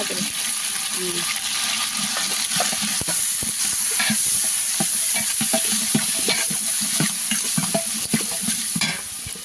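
Meat curry with tomato frying and sizzling in a pan, with steady scraping and clinking of a stirring spoon throughout, loud and close, fading slightly at the end.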